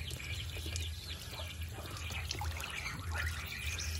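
Tap water from a faucet pouring into a tarpaulin pond for aquatic plants, a faint continuous trickle over a low background hum with occasional small splashes.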